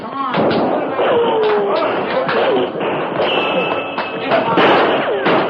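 Old-time radio western drama: a close-quarters gunfight and brawl with dense overlapping bangs, thuds and slams under shouting voices, loud and continuous throughout.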